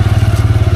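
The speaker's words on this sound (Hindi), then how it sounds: "वो देखो पूरी बाइक घूम रही है" A motorbike revs hard while stuck in deep mud on an off-road trail to Murari Devi Temple, its engine pulsing in a fast, even chug up close as the rear wheel spins without grip.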